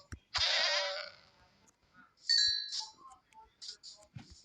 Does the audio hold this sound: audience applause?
no